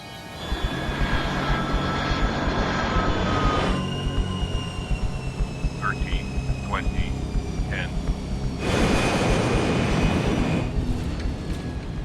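Cabin noise of an airliner touching down in a dramatized crash-investigation scene: a steady loud engine and airflow roar with broadband surges at the start and again late, tonal whines throughout, and brief chirps in between.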